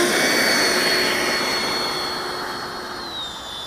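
An FMS Yak-130 electric RC model jet on a 6S battery spools up for takeoff, its ducted fan giving a loud whooshing whine with a steady high tone that eases slightly as it moves off.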